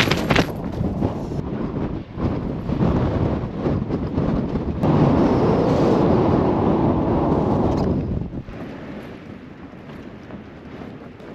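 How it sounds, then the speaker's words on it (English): Strong gusts of mountain wind pound a Hilleberg tent during a heavy rainstorm, producing a loud, roaring rush that swells for several seconds, then eases to a lower, steadier buffeting. "The gusts are getting more and more frequent."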